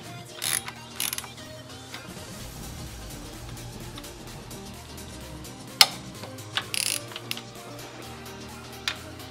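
A ratchet with a 17mm socket loosens bolts on a Subaru Legacy GT EJ25 engine during a teardown, giving short bursts of rapid clicking between pauses, close by, with a sharp metallic clank partway through.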